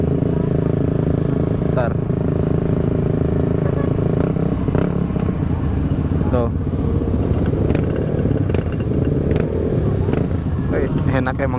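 Motorcycle fitted with an FMF aftermarket exhaust rumbling and revving up close, a loud continuous throaty drone with rising blips, while people talk briefly over it.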